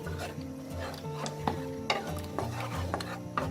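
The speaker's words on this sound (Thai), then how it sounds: "แล้วเราก็จะคนค่ะให้ส่วนผสมทุกอย่างเข้ากันนะเหมือนเป็นการผัดเพื่อให้มีกลิ่นหอมเครื่องแกงนะคะ" Chili and southern Thai curry paste stirred in a pan while making a sour curry of tilapia and pineapple: steady scraping and clinking of a utensil against the pan, with a few sharper knocks, over a faint background hum.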